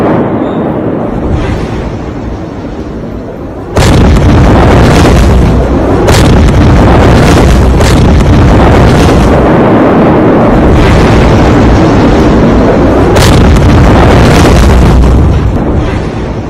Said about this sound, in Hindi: जहां 2 दिन पहले जोरदार धमाका हुआ और उसी वक्त की ये तस्वीर आपको दिखा रहे हैं।